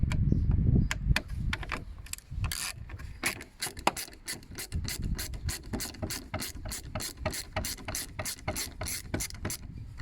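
A hand ratchet drives a Torx T20 screw on a car: a fast, even train of sharp mechanical clicks up close, slowing slightly in places, with a heavier handling clatter at the start.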